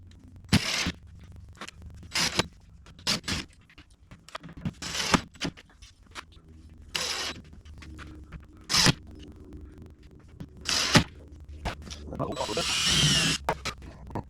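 In a workshop, a power drill bores pilot holes in wood in a string of short whirring bursts separated by pauses, with a longer drilling run near the end and some handling noise between.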